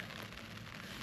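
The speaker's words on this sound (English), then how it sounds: "raining out there" Steady rain falling outdoors in the Scottish Highlands, a dense, continuous hiss of drops on surfaces, close and even throughout with no voices.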